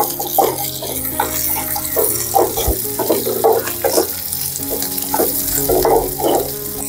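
Small onions with ginger and garlic fry in hot oil, a steady close sizzle broken by rhythmic bursts of stirring and spoon scrapes, with no talking.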